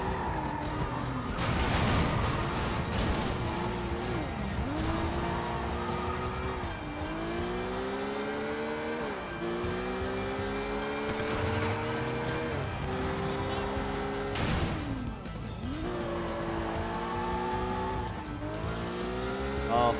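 A car driven hard in the video game Sleeping Dogs, its engine revving up and down through repeated gear shifts while tires squeal and skid in loud bursts.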